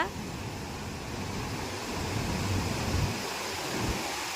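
Floodwater rushes through a dam during a storm in a steady, heavy roar, broad and continuous like a torrent pouring through, with wind buffeting the microphone.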